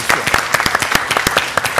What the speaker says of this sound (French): On peut l'applaudir alors?